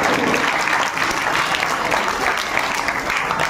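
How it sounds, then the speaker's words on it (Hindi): Dense, steady applause fills a school annual day celebration in Malegaon as a guest is welcomed, a hall crowd clapping loudly and evenly for about three and a half seconds without a break. "जोरदार तालियां होनी चाहिए।"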